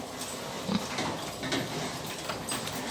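Danish-genetics F1 pigs grunt and snuffle at a moderate distance amid a noisy barn background, with short oinks scattered through the clip.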